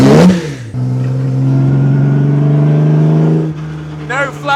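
Classic race car engine in a workshop revving up and holding a steady, loud droning note before dropping away, with a voice briefly at the start and end.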